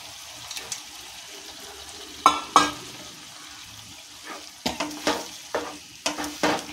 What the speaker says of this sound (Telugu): ఈ చింతపండు గుజ్జు కొద్దిగా ఉడకాలి